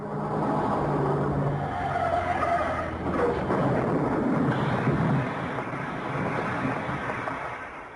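A car skids and crashes as a dramatic sound effect in a story, a loud continuous burst of tyre screech and engine roar with a rumbling impact midway, no talking over it.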